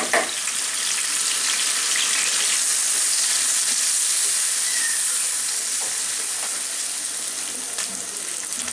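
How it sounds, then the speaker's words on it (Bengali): Washed, drained dried shrimp fry in oil in a pan, giving a loud, continuous close sizzle with faint stirring scrapes and no speech. "এই শুটকিগুলাকে পানি ঝরায় ওগুলাকে একটু ভেজে নিতে হবে। ওই একই তেলে দিয়ে দিলাম।"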